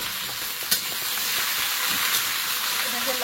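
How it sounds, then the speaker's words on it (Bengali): Okra and potatoes fry in a pan, giving a steady, close sizzle and hiss, with a couple of sharp clicks from stirring. "ওটা যে লেডিস ফিঙ্গার আর আলু। এটা দিয়ে দেবো, প্রথমে একটু ভেজে নেবো।"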